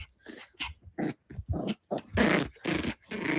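A dog growls in a series of short, close, rough bursts with brief gaps between them, rising into longer snarls toward the end, with no talk over it.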